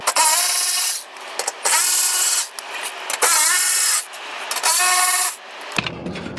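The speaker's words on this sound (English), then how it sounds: "we'll take our 10mm socket, make sure we're loosening, and we'll pull this access panel off" A 10mm socket on a ratchet loosening access panel bolts under a 2005-2012 Nissan Pathfinder or Frontier with the 4.0L V6, loud close grinding clicks in several sustained bursts with short pauses, no voices.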